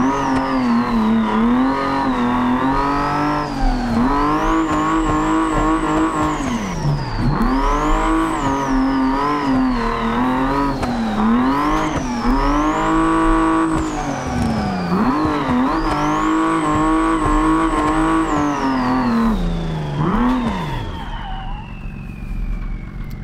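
A car drifting in BeamNG.drive: a loud, continuous engine whine rises and falls with revving gear changes while tires squeal in long sweeping wails through the corners, close and steady throughout.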